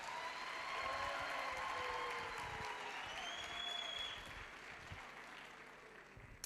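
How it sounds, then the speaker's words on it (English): An audience at a youth week event at a university applauds a deputy vice chancellor, a faint, distant wash of clapping mixed with crowd noise that slowly fades. "Let's give him a round of applause."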